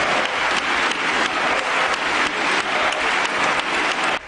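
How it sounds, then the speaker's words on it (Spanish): Sustained applause fills a parliamentary chamber as members stand and clap, a dense, even roar of many hands held at a steady loudness from start to finish. "Los de su partido, los socialistas, se han puesto en pie aplaudiendo para compensar"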